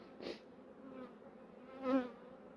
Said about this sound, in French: Je voulais vous montrer les jeunes abeilles